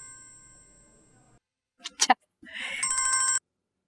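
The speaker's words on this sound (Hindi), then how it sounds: "ये फोन आ रहा है, उठाओ।" An indoor telephone rings, its electronic tone sounding at the start, then a couple of short sharp bursts, then a louder ring again before cutting off.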